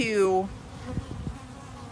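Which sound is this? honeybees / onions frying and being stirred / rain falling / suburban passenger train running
honeybees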